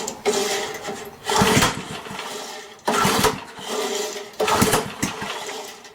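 A Briggs and Stratton small engine is pulled over by its starter cord in several rhythmic rasping pulls, each a surge of whirring cranking that rises and falls without catching, fairly close.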